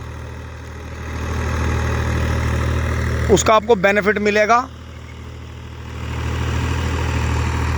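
A Massey Ferguson 245 DI tractor with a rotavator idles steadily, its low engine hum running throughout as someone speaks briefly over it in the middle.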